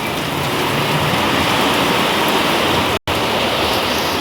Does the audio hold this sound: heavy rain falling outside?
yes